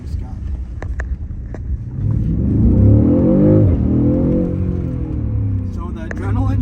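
A 2018 BMW M550i pulling hard under acceleration, its engine note rising into a loud, sustained, close roar that swells and holds, with a voice talking over the start and end.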